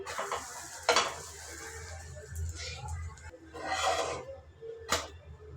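Food toasts and sizzles faintly in a pan at a home breakfast, with several sharp scraping clanks of a utensil against the pan and a low background hum.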